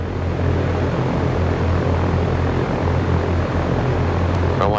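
Simulated aircraft engine from the X-Plane 11 flight simulator running in a home-built trainer cockpit, a loud, steady droning hum that holds evenly from start to finish with no talking.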